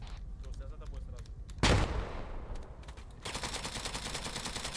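In the video game Arma 3, a grenade goes off with a loud, sudden blast in the middle, framed by bursts of gunfire before and a dense rattle of shots afterward.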